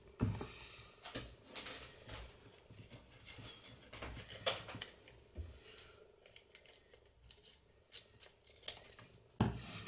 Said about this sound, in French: Je peux couper grossièrement